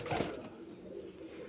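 A soft, brief pigeon coo sounds near at hand, low and quiet, with faint ambient background.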